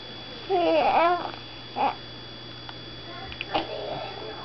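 A baby babbles in short bursts of happy, sing-song vocalizations with brief pauses between them, close by against a quiet background.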